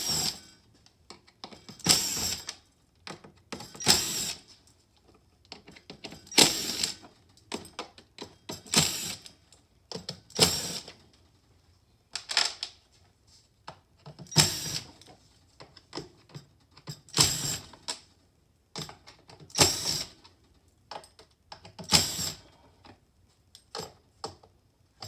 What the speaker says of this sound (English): Then with your T20, you got to remove each one of the bolts.